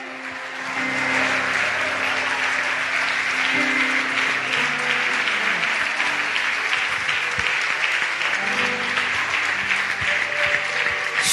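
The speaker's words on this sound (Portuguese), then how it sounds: "Pode aplaudir ele, pode aplaudir." A church congregation at a worship service breaks into sustained, dense applause, loud and steady throughout, with faint voices and a low held tone beneath.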